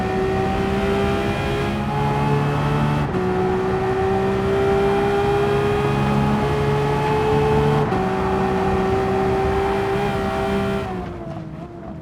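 In Gran Turismo 7, a Porsche 992 GT3 RS with its 4.0-litre boxer engine of over 500 horsepower screams at high revs on the Nordschleife. Loud and sustained, it drops briefly at two gear shifts, then the revs fall off near the end.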